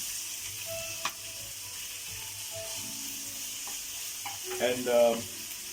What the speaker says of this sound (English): while our onions are still frying